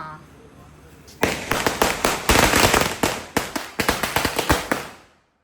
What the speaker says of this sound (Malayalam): വെടിക്കെട്ടുകാരൻ രാഹുല് കത്തിക്കുന്നുണ്ട്.